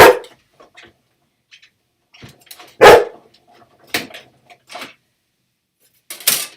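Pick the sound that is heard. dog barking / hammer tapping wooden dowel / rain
dog barking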